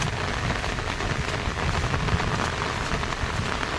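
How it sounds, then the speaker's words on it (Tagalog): Steady heavy rain pouring down and drumming on surfaces, a dense continuous hiss without pause. "Nakita nyo, walang tigil ang ulan."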